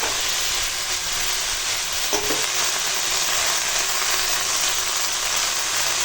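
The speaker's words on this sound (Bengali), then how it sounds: "তো দেখো এখন শাকটা রান্না হচ্ছে" Leafy greens (note shak) simmer with water in a pan, giving a loud, constant sizzling hiss and a brief stirring clink; no one talks.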